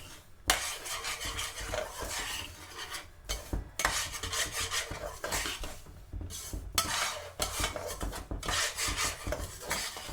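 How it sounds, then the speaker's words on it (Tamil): Roasting semolina with sugar and a pinch of salt is stirred in a pan for coconut rava laddu, making repeated loud scraping strokes in bursts separated by brief pauses, with no voices. "ஒரு கொஞ்சம் உப்பு போட்டுட்டு இந்த டைம்லேயே சீனியை போட்டு கிண்டுவோம்."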